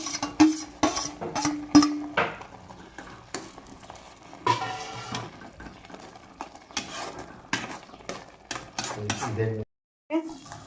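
Tomatoes being stirred into an egg dish in a pan, with repeated scraping and clinking of a utensil against the pan over a faint sizzle, close and intermittent, with a brief silence near the end.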